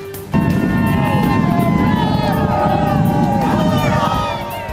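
A large outdoor crowd gathered in the shore town of Wildwood, waiting for President Trump, makes a steady, dense hubbub of many voices. Faint traffic and a distant siren-like tone run beneath the babble.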